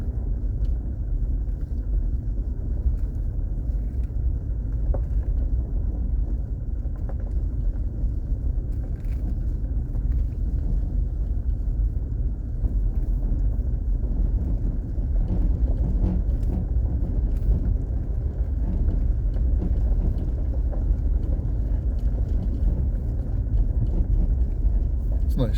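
Car driving along a forest road in Allegheny National Forest, a steady low engine rumble with wind buffeting the microphone, continuous and close throughout.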